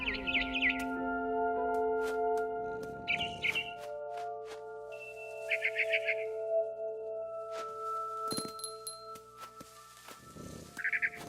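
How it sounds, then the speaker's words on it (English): A barn swallow chirps in short bright bursts near a window in What Remains of Edith Finch, scattered among soft tonal game ambience and occasional clicks. "Then I heard chirping outside my window. It was a barn swallow going back to her nest."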